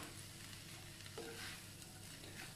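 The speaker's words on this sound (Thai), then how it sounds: "ผัดให้ส่วนผสมเข้ากันค่ะ" Beef fried rice being stir-fried in a pan over high heat, a continuous close sizzle with scraping stirring sounds running through the whole short stretch, no voices.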